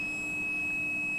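A laminar flow cabinet sounds a steady high electronic beep tone continuously over a low fan-like hum, with no voices.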